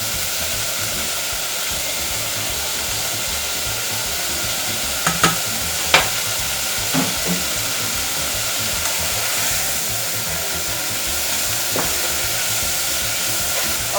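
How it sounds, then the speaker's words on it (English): Garlic sautés in a pan with onions for a pan lasagna, a steady loud sizzle and hiss broken by a few sharp clinks and scrapes of a utensil stirring. "Now I'm gonna add the garlic."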